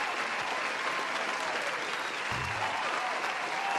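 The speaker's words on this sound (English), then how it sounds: "let's just have an applause for Board Panda" Applause welcoming a new viewer to a live futures-trading stream, a steady, fairly quiet wash of clapping that sounds like a canned or distant crowd effect, running evenly throughout.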